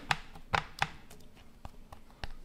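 Raw chicken thigh and breast are pierced with a metal meat skewer before grilling, giving a series of soft, sharp stabbing taps, three louder ones at the start, then fainter irregular pokes.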